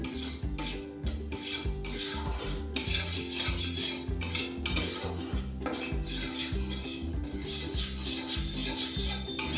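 Cashews roast in a pan while a utensil stirs them, giving rhythmic metallic scraping and clinking strokes throughout, close and fairly loud over background music.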